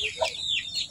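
A chicken clucks in a few short, bright bursts across one second, fairly close and clear, with no talking over it.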